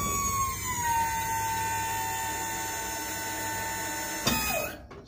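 Hydraulic pump whining steadily as it raises a dump trailer bed, a continuous close electric-motor tone that shifts slightly in pitch, then a brief knock and the pump winding down at the end.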